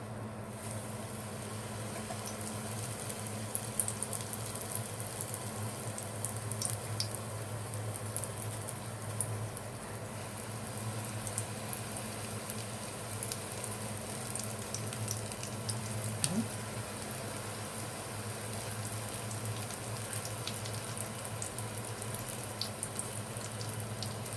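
Hot oil sizzles steadily in a pan on a gas stove, a continuous close crackle and patter with a faint low hum beneath, no voices.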